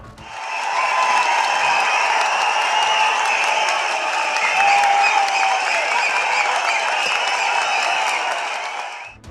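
Some 2,500 party general council members fill a hall with sustained clapping and cheering, a dense, loud, even roar of applause that holds steady for about nine seconds before tapering off at the end.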